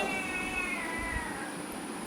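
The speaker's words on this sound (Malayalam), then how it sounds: "പൂച്ചക്കുഞ്ഞെ വാവൂന്ന് പറഞ്ഞേ" A kitten meows softly and steadily nearby, a thin drawn-out cry over faint background hum, with no talking.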